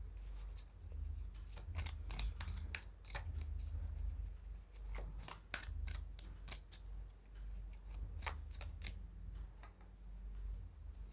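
Tarot cards being shuffled and drawn by hand, a steady run of crisp papery flicks and riffles close up, repeating in quick irregular bursts over a low background hum with no speech.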